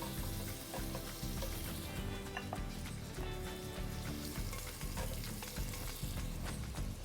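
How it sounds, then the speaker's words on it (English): Shallot and garlic frying in a tablespoon of butter in a hot pot for steamed mussels in white wine, a dense, constant close sizzle with crackles and a few clinks of utensils running throughout. "I'm going to add a tablespoon of butter, and we're going to start to cook our shallot garlic"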